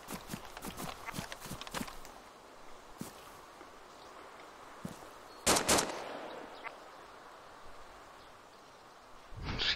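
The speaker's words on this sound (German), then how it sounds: "Schießen die auf irgendwas?" Gunfire in DayZ sounds as a quick series of sharp cracks, followed by a louder, closer double shot and another blast at the end, set against a steady outdoor hiss.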